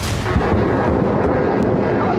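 A loud, sustained booming roar like a heavy explosion, dense and rumbling throughout with no voices.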